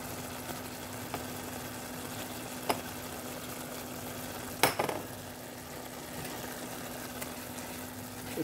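Dried fish (shutki) frying in a pan for a bottle-gourd-leaf fritter dish: a steady, close sizzle with a few sharp utensil clacks against the pan, no voices.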